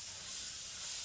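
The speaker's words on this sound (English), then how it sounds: "So I just want to spray just the edge of this foam." A spray gun lightly misting clear coat onto the edge of a wheel, giving a steady, even hiss throughout with no breaks and no talking.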